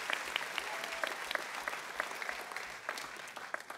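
A school musical audience applauds new grandparents with a faint, steady patter of clapping, individual sharp claps standing out against the crowd.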